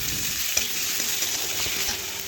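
Potatoes with turmeric and red chilli powder sizzle steadily in a pan, a constant bright frying hiss with a few soft scraping stirs, close and alone.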